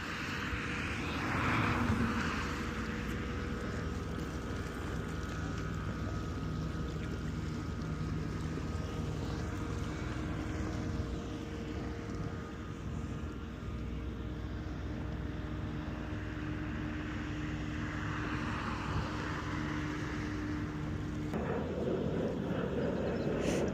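Small red water-taxi boats out on a calm, cold harbour, heard as a steady distant motor drone with a low hum and wind rumble throughout, a louder swell near the start and a shift near the end.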